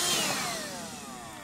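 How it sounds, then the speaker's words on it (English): A vacuum cleaner works through the stripped interior of a Holden Commodore, its steady whine with falling tonal lines droning on alone and close, easing slightly louder to softer. "vacuum in a steady line this whole part"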